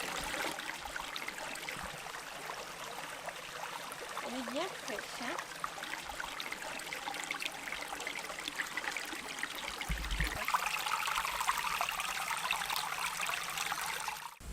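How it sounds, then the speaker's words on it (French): Steady broadband rush of a river flowing beside a natural campsite in the Ballons des Vosges park, continuous and close, swelling slightly louder toward the end, with a faint voice briefly in the background. "rivière"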